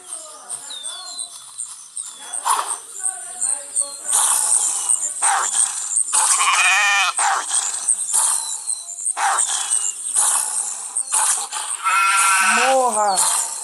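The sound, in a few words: sheep bleating in The Wolf video game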